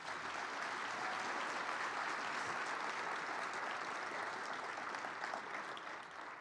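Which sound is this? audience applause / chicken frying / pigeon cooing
audience applause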